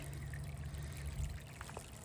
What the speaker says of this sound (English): It's coming through the channel drain.